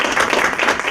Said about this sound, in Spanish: Fuertes aplausos aquí a nuestros invitados del día de hoy.